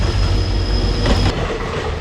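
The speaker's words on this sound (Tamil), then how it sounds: "அத்தாடி ட்ரெயினா." A train rumbles past on a railway track near Dudhsagar Falls in India, loud and close, with a steady rolling roar and a high metallic whine throughout and no talking.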